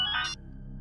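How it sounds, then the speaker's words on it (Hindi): A phone rings in a tense horror drama scene, a short bright electronic ringtone burst lasting about a third of a second before cutting off, with a low room hum continuing underneath. "लगता है उसी का फोन।"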